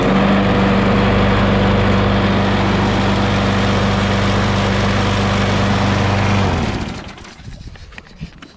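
Loud, steady drone of a Craftsman 22-inch self-propelled mower's Briggs Quantum engine running close by, then cutting off abruptly near the end, leaving faint clatter.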